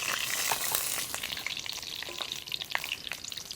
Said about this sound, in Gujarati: હવે નાખશું આપણે રાઈ હવે નાખશું આપણે આખું જીરું